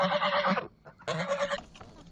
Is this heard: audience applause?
no